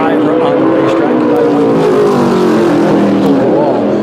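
A modified race car lapping a racetrack during qualifying at South Boston Speedway, its engine a steady, loud drone that climbs in pitch toward the end, with a voice faintly present beneath.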